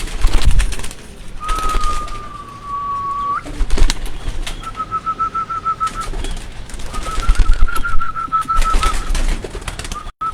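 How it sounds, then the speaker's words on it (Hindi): Pigeons, including young birds, coo repeatedly on a rooftop loft. Soft, rolling calls repeat close by over a busy background, with a few faint wing flaps. "ये ऊपर भी अगर आप देखें तो छोटे बेबी पिजन हैं दोस्तों"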